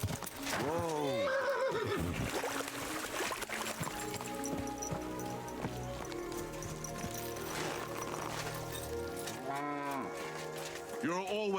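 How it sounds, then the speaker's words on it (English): Horse whinnying in the medieval game Kingdom Come: Deliverance II, with rising and falling neighs at the start and again near the end, over background music, hoof clops and game voices. "What a beautiful horse."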